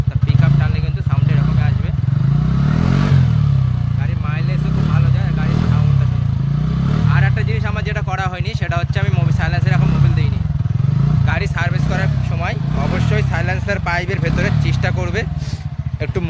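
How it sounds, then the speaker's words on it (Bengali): A vehicle engine runs steadily up close, its low throbbing drone continuous for the whole stretch, while a person talks over it. "গাড়ির ইঞ্জিনের সাউন্ডটা দেখতে পাচ্ছ"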